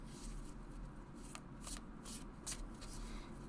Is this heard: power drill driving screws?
no